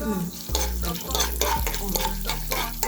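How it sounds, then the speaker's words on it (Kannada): Chana dal, urad dal and cashew pieces frying in ghee, a steady close sizzle with stirring scrapes and soft pan knocks running throughout. "1 ಸ್ಪೂನ್ ಕಡಲೆಬೇಳೆ. ಓಕೆ, ಉದ್ದಿನಬೇಳೆ, ಗೋಡಂಬಿ ಚೂರು ಫ್ರೈ ಆದಾಗ"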